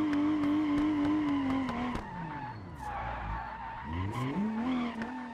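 Car drifting around a karting track, tires squealing loudly in long sustained screeches that bend in pitch as the engine revs rise and fall through the turn, close and dominant.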